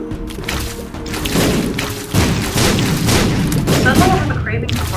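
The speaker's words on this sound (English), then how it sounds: "I've got a craving for not being blown to hell by giant green bombs." Repeated bomb blasts from The Binding of Isaac game, with giant green bombs going off: dense booming thuds and crackling bursts follow one another almost continuously, loud and close, with a heavier burst partway through.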